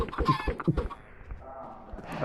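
Chickens cluck in the Minecraft video game, a few short clucks close by at the start, then quieter game ambience.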